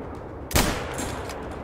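A single sharp, loud hunting rifle shot rings out in Hunter Call of the Wild, cracking once and fading quickly into steady outdoor game ambience.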